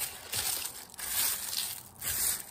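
Sheets of paper crinkle and crush as they are laid down, in a few loud, rustling bursts with brief pauses between them, close and alone with no talking.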